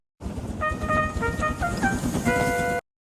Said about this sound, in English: "Beep, beep, I'm ready," whistled Thomas.